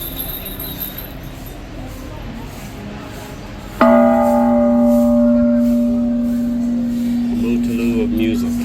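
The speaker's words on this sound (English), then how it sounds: "something that's kind of Mutelu in these temple adventures with Taya is to ring the bell." A single strike of a temple bell in Chiang Mai, Thailand rings out sharply and hums with a long, sustained metallic tone that slowly decays under faint background ambience.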